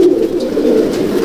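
An old champion Andhra breeder's pigeon coos loud and close in a loft, a continuous throaty rolling murmur with no voices over it.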